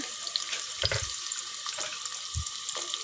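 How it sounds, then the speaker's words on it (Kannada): Onions fry in a pan for chicken biryani, giving a steady, close sizzling hiss with a few soft low knocks from the pan, and no voices. "ಈರುಳ್ಳಿಯನ್ನು ಚೆನ್ನಾಗಿ ಫ್ರೈ ಮಾಡ್ಕೊಳ್ಬೇಕು."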